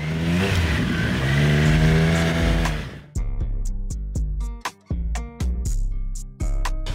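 A Triumph 765 RS three-cylinder motorcycle engine roars at high revs, then drops to a series of sharp throttle blips with brief pauses between, loud and close.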